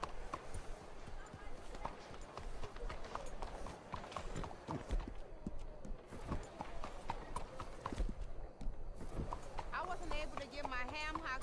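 Horse hooves clip-clop in Red Dead Redemption 2 beneath near-constant talk from the player and in-game characters, a busy, continuous mix of thuds and movement sounds.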